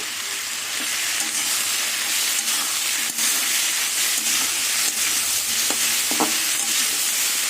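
Snake gourd pieces frying in a pan with spices, a continuous loud sizzle and hiss with a few scraping clinks as it is stirred.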